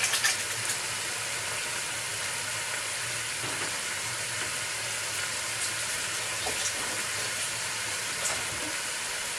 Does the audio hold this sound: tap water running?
yes